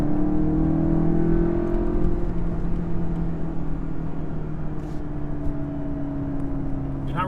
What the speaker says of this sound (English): You're not really getting any exhaust noise, you're just getting a lot of the engine noise, induction noise